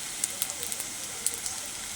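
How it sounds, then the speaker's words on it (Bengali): Bora fritters deep-frying in hot oil, a steady soft hiss of bubbling with scattered small pops and crackles, close but fairly quiet, with no talking. "আমি আজকে বড়া ভেজে দেখাচ্ছি কিভাবে বড়াটা ভাজতে হয়"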